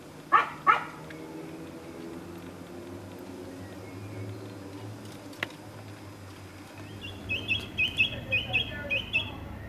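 Song thrush singing from a chimney pot in a garden, a run of clear, repeated bright phrases rising near the end over steady low background hum, with a couple of sharp knocks early on.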